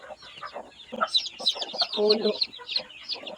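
Chickens clucking in a yard with broken, overlapping calls and a brief louder burst, heard under a person talking nearby.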